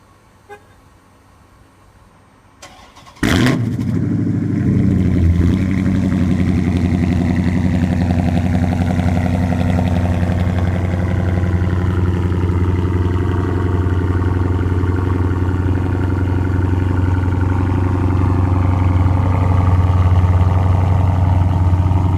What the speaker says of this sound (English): a video of my 2014 SRT Superbee Charger exhaust. It's got a glass pack straight pipe on it. So I'm going to start it up